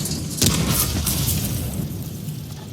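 Enemy artillery shells exploding in a World of Tanks match with a KV-1 tank, heard as a loud broad boom with rumbling low end and crackling debris that lingers over a continuous battle din, with no talk.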